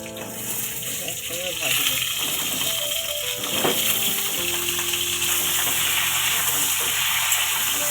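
Pointed gourd (potol) frying in oil in a home kitchen for a potol-prawn dish, a close, continuous crackling sizzle with occasional clatter, while a person talks over it.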